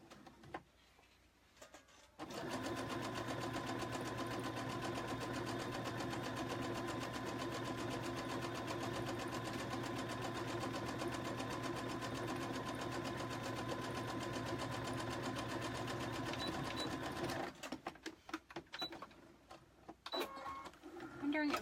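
Sewing machine running continuously on fabric for a card holder, a steady mechanical whir for about fifteen seconds, preceded and followed by quiet room sound and light handling.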